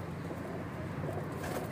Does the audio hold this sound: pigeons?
yes